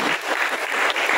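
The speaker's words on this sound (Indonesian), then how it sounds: "kita harus tepuk tangan dulu untuk mereka" Audience applause at a school practical exam event for PMI youth first aid groups, a dense steady wash of many hands clapping close and loud, filling the whole short stretch without voices.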